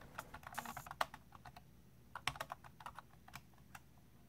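Typing on a wireless Bluetooth keyboard with 2.4 GHz pairing, a quick irregular run of close, crisp key clicks with short pauses, a brief lull in the middle, and no voices.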